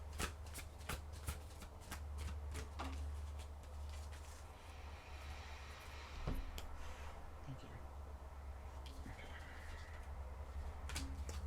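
Tarot cards being handled and shuffled up close, a long run of soft riffling, flicking and sliding card sounds with occasional sharper snaps, fairly quiet, with a few faint background noises.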